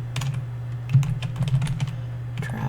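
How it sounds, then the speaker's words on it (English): Rapid keystrokes on a computer keyboard come in uneven bursts with short pauses, close and clear over a steady low hum. "And I'll type in Campus"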